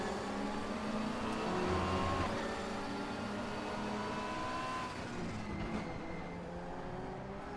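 A race car engine in a racing video game at the Spa circuit, a steady, close-up roar held at high revs with slight pitch shifts as it accelerates, with no talk.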